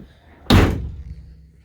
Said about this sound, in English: if you close the door